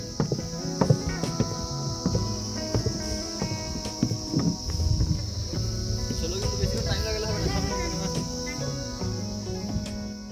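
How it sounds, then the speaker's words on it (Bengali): Crickets at Lepcha Jagat in the hills keep up a continuous, shrill chirring drone, joined by soft shuffling steps and faint background activity. "ঝিঝি পোকার আওয়াজ একটা অদ্ভুত সুন্দর পরিবেশ সৃষ্টি করেছিল।"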